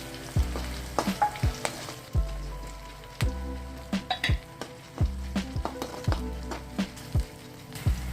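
Cashew nuts fry in a pan of oil for pepper pongal, giving a soft sizzle under repeated sharp taps and scrapes of a spoon against the pan, fairly quiet and close.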